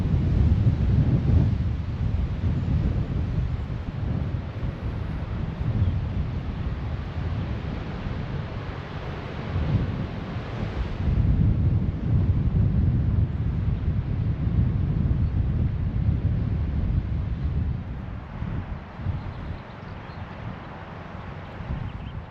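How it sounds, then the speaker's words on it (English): Steady, heavy wind buffets the microphone on an open Scottish hillside field, a constant low roar swelling and easing slightly throughout; no one speaks. "it's a windy spot here"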